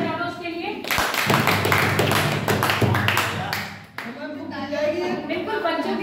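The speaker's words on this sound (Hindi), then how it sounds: "तालियां बजा दो उसके लिए।" Students in a classroom clap their hands in a dense burst of applause lasting a few seconds, with a voice speaking before and after.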